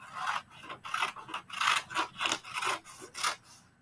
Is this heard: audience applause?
no